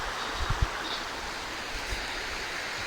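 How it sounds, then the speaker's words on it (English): Running water of the River Spey at a riverside wild camp, a steady soft broadband rush with no voices and a few faint low knocks. "I'm going to enjoy this noise tonight. It'll make me go to sleep after a little bit of running water."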